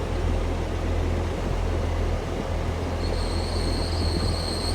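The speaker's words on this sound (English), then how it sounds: "coming in now is a Great Western Railway service from Newquay going to London Panton" A Great Western Railway 9-car train, unit 802-114, from Newquay to London Paddington, arriving at Exeter St Davids station on a sunny evening; a steady loud rumble of wheels on rail with high squealing tones rising near the end.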